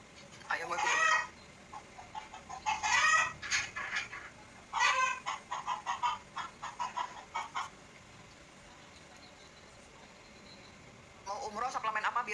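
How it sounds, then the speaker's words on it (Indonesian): Chickens cluck in scattered, rapid bursts, with a rooster-like call at the start and end, fairly faint and in the background of a quiet indoor space, with brief speech. "Aduh, ada ayam masuk ke karangan tuh pasti."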